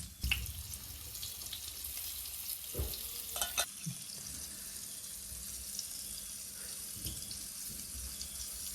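Jitada fish from a creek frying in oil in a pan, a steady sizzling hiss throughout with a few clanks and scrapes of the utensil, no talking.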